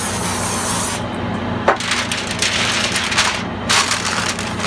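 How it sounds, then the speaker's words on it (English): Cooking spray hisses onto a foil-covered casserole dish in two short bursts, close and steady. "I'm going to spray it with some cooking spray."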